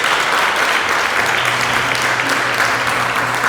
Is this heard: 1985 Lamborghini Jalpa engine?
no